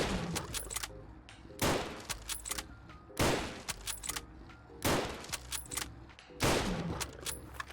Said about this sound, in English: standard Lee Enfield with no attachments and no perks, aiming for the Deathclaw's weak point